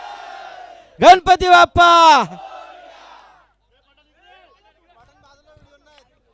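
A crowd at the prize ceremony of the L. Vishwanath Sheth Smruti Chashak 2025 tournament gives a short, loud group chant lasting barely more than a second. Fading murmur and near silence follow.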